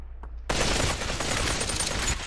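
An AK rifle fires in the VR shooter Population One, a sudden burst of rapid automatic gunfire after a brief quiet start that keeps going loud and dense for nearly two seconds, with no talking.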